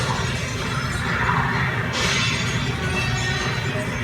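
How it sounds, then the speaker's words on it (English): A vase shatters after a thrown batarang misses its catch on a TV action series, a bright burst of breaking glass or ceramic cutting in around the middle over a steady, dense background of score and ambience. "and it shatters the vase."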